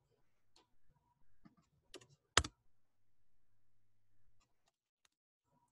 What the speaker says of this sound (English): hit tab on your keyboard